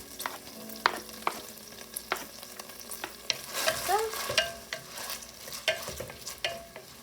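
Chopped jalapeno, onion and garlic sizzle and fry in a pot for chicken tortilla soup, with a steady close crackle broken by scraping stirs of a utensil, and no speech.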